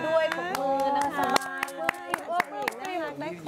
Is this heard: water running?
no